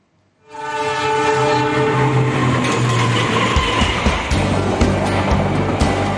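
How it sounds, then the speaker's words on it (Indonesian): A train rolls past a roadside meatball soup stall in Malang, its horn sounding at the start before the loud, steady rumble and clatter of the wagons carry on continuously from close by. "pelanggan juga bisa melihat dengan dekat kereta api yang tengah melintas"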